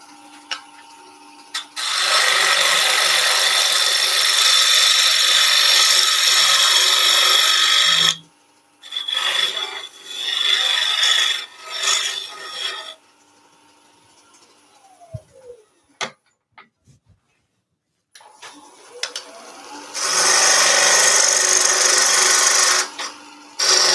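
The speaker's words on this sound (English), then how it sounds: "Let's go back with the gouge." A gouge cuts a banksia nut spinning on a wood lathe, giving loud, steady rasping bursts that run several seconds each, broken by quieter scraping, a pause and a winding-down hum before the cutting resumes.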